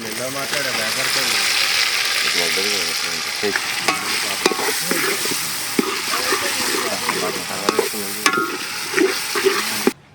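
Loud, steady sizzling of marinated paneer frying in a pan, with occasional stirring clatter and a few sharp scrapes, and voices talking faintly underneath.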